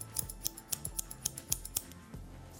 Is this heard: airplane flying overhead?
no